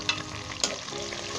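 About 200 to 250 grams of boneless chicken frying for biryani, a brief, quiet sizzle with two small clatters of stirring, no voices.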